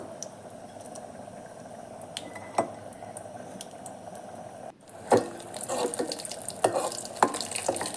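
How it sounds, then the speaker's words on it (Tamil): Vadagam dropped into hot oil with asafoetida, a soft sizzle and crackle with occasional clicks and stirring knocks, growing busier and louder in the second half. "பெருங்காயம் ஆயில் சூடாயிடுச்சு நல்லா இது கூடவே வடகத்தை சேர்த்துக்கலாம்"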